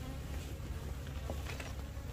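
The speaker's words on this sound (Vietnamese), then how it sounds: "Ong này là không biết là đến chiều nó có hành không" Dense, steady buzzing of many bees around their hives out in the open on a warm flowering-season morning, with a constant low hum and no talking.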